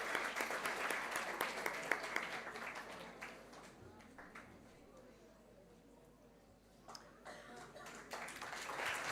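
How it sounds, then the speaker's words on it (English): Crowd at a school astronomy festival applauding a guest being introduced, bursts of clapping that swell, ease off into quieter murmur midway, then return strongly, faint and slightly distant. "please give her a big round of applause"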